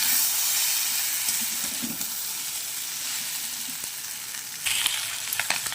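Fried morola fish sizzles in spiced masala in a pan, a dense, steady hiss close up with a brief stir clatter near the end and no voices.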